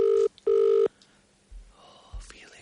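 A telephone rings in two loud, steady electronic bursts close by, followed by quiet room noise and a few faint low thumps, as on a live broadcast.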